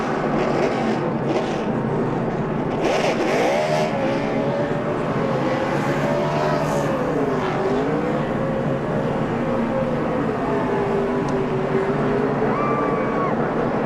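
A NASCAR race car at the 2007 Food City 500 spinning celebratory donuts after winning, its engine note rising and falling in long sweeping pitch arcs over a continuous crowd and track roar, loud and sustained.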